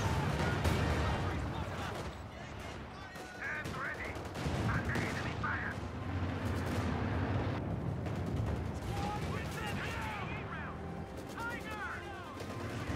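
Cluster and fragmentation bombing in Company of Heroes 2, a dense rolling barrage of overlapping blasts and gunfire, continuous and fairly loud, with voices talking over the din.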